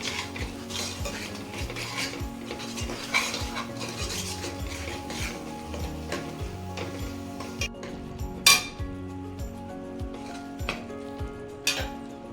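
Turmeric, salt and chili roast in a pan for baingan bharta, with a spoon stirring and scraping against the metal, occasional clinks and a faint sizzle underneath.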